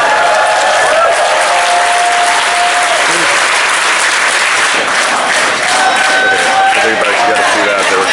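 Dense, steady applause from a large convention audience at Bronycon, cheering for Lauren Faust, with whoops and shouts mixed into continuous clapping that stays loud throughout.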